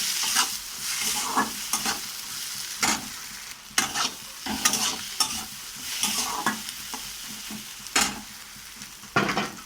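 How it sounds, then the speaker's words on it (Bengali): Egg stir-fried together with vegetables in a pan for capsicum chowmein, a steady sizzle broken by repeated scraping and tossing strokes of the spatula at uneven intervals, close and clear with no talking. "আমি এর সঙ্গে দিয়ে ভাজবো, সবজিগুলোর সঙ্গে দিয়ে।"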